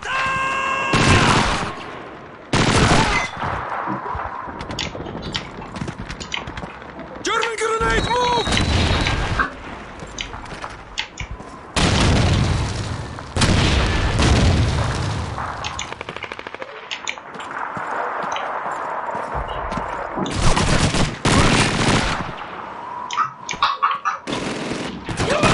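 A World War II battle in the shooter Call of Duty 2, with heavy artillery booms and rattling machine-gun bursts recurring loudly throughout, dense and sustained, with shouted voices at times.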